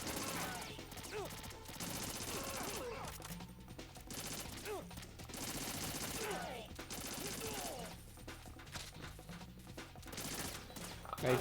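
Rapid bursts of automatic gunfire and fusillades from Metal Gear Solid 2 fill the whole stretch, loud and continuous with sharp crackling volleys, while occasional voices talk underneath.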